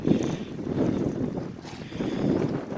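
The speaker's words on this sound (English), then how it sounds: "So I was saying it was windy." Wind blows across a lake aboard a small camp-cruising sailboat and buffets the microphone in deep, rumbling surges that rise and ease, with no voices heard.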